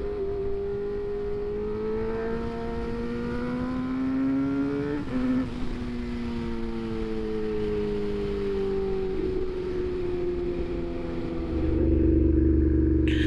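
A motorcycle engine drones steadily while riding toward Madara, Bulgaria, pitch rising and falling as it revs, heard close throughout, with a heavy low rumble swelling near the end.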